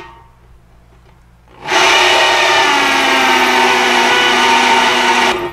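A drill with a tungsten carbide bit biting into a steel beer keg, starting after a quiet lead-in as a loud, harsh, sustained grinding screech with a slowly shifting whine, then cutting off abruptly.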